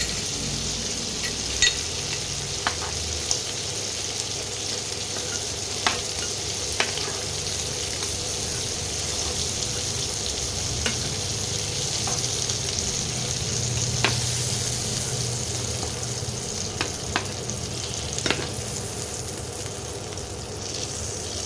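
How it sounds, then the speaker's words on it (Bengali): Prawns frying briefly in oil in a pan, with a constant close sizzle and the occasional clink of a utensil stirring, alone without talk. "চিংড়ি মাছ তো বেশি ভাজা যায় না, বেশি ভাজলে শক্ত হয়ে যায়, ওই জন্য অল্প করে একটু ভেজে নিচ্ছি।"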